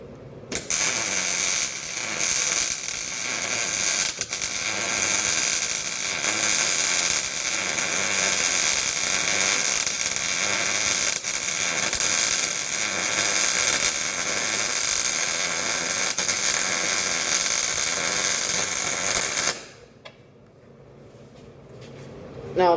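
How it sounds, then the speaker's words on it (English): Continuous MIG welding on a T-joint using a push technique, a steady loud crackling buzz running about twenty seconds without a break before it cuts off into quiet room noise. "So now we're going to push on the T-joint."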